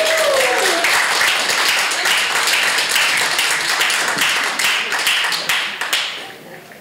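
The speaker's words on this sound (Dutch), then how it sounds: "Dames en heren, mag ik een daverend applaus voor de schrik voor Rotterdam van Solo." Loud, dense applause from an audience at a poetry reunion show in Rotterdam, sustained for several seconds before beginning to thin out toward the end.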